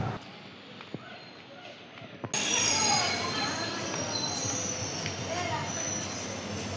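A train runs past at Kendukona railway station, a rumbling roar that cuts in suddenly after a quieter stretch and carries on with faint wheel squeal, people talking beneath it.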